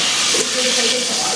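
Hot oil tadka tinted with color is poured over paya, giving a loud, steady sizzling hiss that fills the whole moment with no talk.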